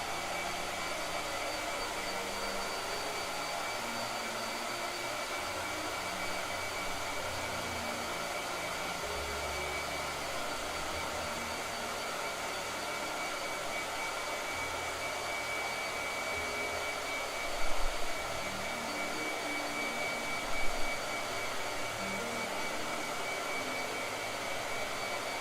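Blow dryer running steadily for the whole stretch, a constant whooshing hum at moderate level with no talk, with a couple of faint bumps partway through.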